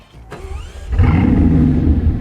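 A Bugatti Chiron Super Sport's engine starts after a short whir, then settles into a loud, deep, steady idle rumble close by, with no voices.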